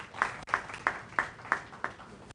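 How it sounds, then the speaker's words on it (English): At an urban law conference, six evenly spaced, crisp claps sound at a slow steady rhythm, fairly quiet and isolated against a near-silent room, then stop abruptly. "Let's welcome him with a round of applause"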